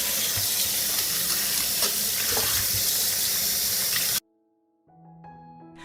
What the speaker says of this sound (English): I will wash the apricots first.